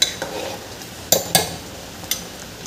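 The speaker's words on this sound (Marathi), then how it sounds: "याला छान मिक्स करून घ्यायचं." Taro leaf curry (aloo fatfata, a thin Maharashtrian colocasia leaf dish) stirred in a pan, with a few sharp spoon scrapes and clinks against the metal over a soft sizzle, close and alone.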